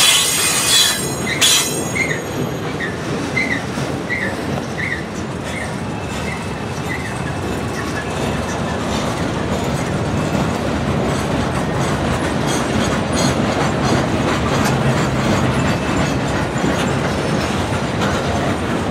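A long CSX freight train led by locomotive 5426 rolls steadily past with rumbling wheels and clanking cars carrying welded rail, and sharp metallic squeals ring out near the start.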